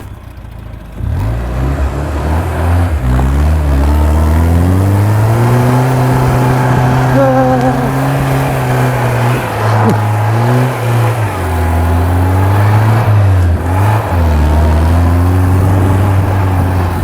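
A Classic Mini-based off-road buggy's engine revs hard while driving, its pitch climbing and falling through loud, sustained acceleration from close range with a brief shout early on.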